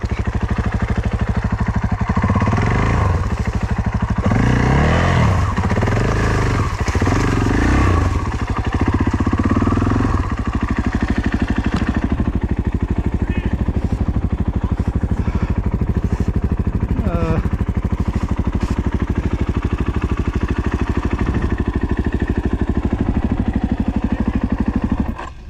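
A two-stroke motorcycle on an adventure ride around the Sea of Galilee, its engine droning steadily and close while churning through mud, with bursts of talk over the first ten seconds.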